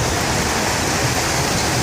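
Heavy rain pouring onto a street in Taif, a dense, steady hiss of falling water that fills the whole stretch at a loud, constant level with no pauses and no voices.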